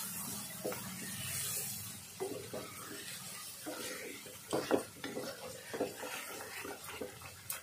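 Gram flour (besan) roasts in a pan for a chicken masala gravy, with a faint sizzle under irregular scraping and clinking stirs of a spoon against the metal.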